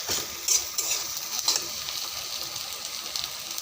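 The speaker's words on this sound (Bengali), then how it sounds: "পেঁয়াজের সাথে এগুলো ভেজে নিব একটু" Dried fish and onion fry steadily in oil, a close continuous sizzle broken by occasional stirring clatters of a spoon against the pan.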